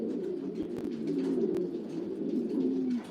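A racing pigeon coos softly and repeatedly in a loft, its low, throaty warbling rolling on continuously at close range with no talking over it.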